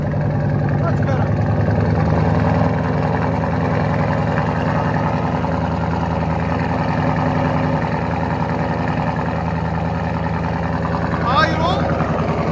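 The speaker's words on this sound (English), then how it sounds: "That's idle. 6-speed Mustang." A 2024 Ford Mustang GT with a 5.0L Coyote V8, six-speed, Roush H-pipe and straight pipes, sits idling: a steady, deep, loud rumble that holds evenly throughout.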